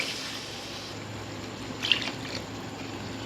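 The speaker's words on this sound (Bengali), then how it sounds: "এবার আমি দিয়ে দেব এর মধ্যে 2 বাটি জল।" Water poured into chicken curry cooking in a pan, a soft steady trickle and splash that stays fairly faint, with a slightly brighter burst near the middle.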